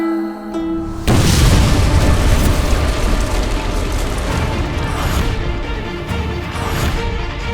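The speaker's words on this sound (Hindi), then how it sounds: "ये कैसा धमाका था?" A loud, close explosion effect in a fantasy TV show erupts after a brief musical opening, then a dense rumbling, crackling roar fills several seconds and slowly fades.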